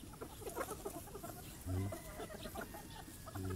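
A young gamecock stag clucks softly on a farm, a few short low clucks scattered over faint outdoor background noise.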